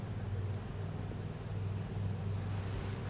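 Honeybees crawl on hive frames in an opened top box, making a continuous low buzzing hum that stays steady and fairly close throughout.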